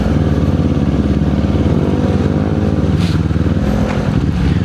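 A Kawasaki Z400 motorcycle fitted with a Yoshimura R77 exhaust idles loudly and close, a steady deep burbling drone with slight swells in pitch.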